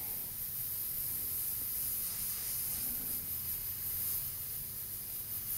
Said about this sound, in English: I kind of make sure the airbrush is playing good, making nice.